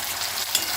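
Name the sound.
taro root (colocasia) frying in oil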